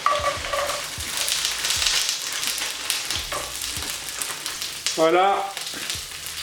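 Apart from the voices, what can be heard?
onions frying in oil in a pan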